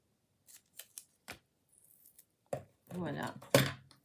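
Scissors snip paper for card making, a few sharp separate clips near and clear, followed by someone talking in French close by.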